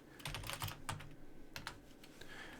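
A computer keyboard clatters with quick, soft bursts of key presses and short pauses in between, close and fairly quiet, with no speech.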